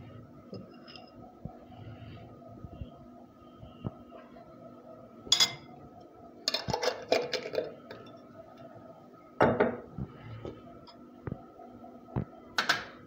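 Spoon stirring onion, oil and tomato paste together in a pot, quiet with sporadic clinks and scrapes of metal against the pan spaced a few seconds apart.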